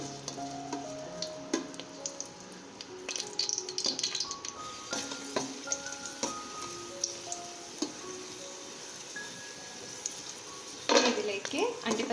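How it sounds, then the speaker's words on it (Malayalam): Raisins sautéing in melted ghee in a pan, with soft sizzling and frequent clinks and scrapes of a stirring spoon against the pot, close by and moderately quiet, with a louder burst of stirring near the end. "നെയ്യ് ഉരുകുമ്പോൾ അതിലേക്ക് കിസ്മിസ് ചേർക്കാം."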